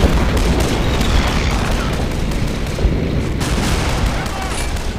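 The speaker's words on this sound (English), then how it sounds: "One of the Russian artillery cannons has fired a shot in" Russian artillery cannons firing in a World War II battle game set at Küstrin, heard as a loud, dense, continuous roar of booms and gunfire that fills the whole stretch without pause.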